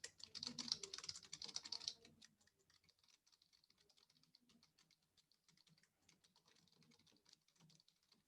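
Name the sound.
typing random text on a computer keyboard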